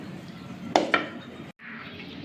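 A serving spoon scrapes and knocks against a pot twice in quick succession while sweet vermicelli zarda is dished out into a serving dish, then a brief cut and a soft kitchen hiss.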